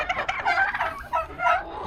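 Several turkey toms gobble in repeated bursts close by, their rattling calls overlapping across the stretch with no talk, on a farm kept alongside aggressive American breast chickens.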